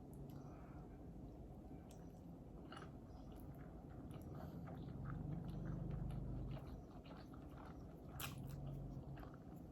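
A piece of sweet egg tamagoyaki sushi is bitten and chewed close up, giving faint soft squishy mouth sounds with occasional small clicks over a quiet background.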